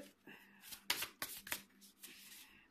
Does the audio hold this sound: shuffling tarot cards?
yes